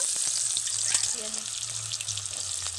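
Sliced onions dropped into hot oil in a pan, reused after frying potatoes, giving a steady broadband sizzle with soft low clatter underneath, moderately loud and continuous.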